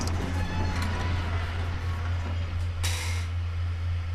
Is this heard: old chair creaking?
yes